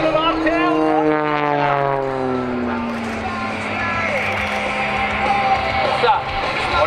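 Aerobatic propeller airplane in an inverted flat spin at an airshow, its engine droning with steadily falling, wavering pitch as it rotates, heard continuously with a commentator talking over it.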